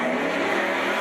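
Outlaw sedan race cars roar off the start at Macs Speedway at night, a dense, loud engine drone filling the short moment without any voices.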